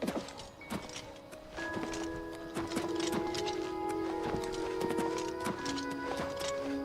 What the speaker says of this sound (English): Go on, go get your horse.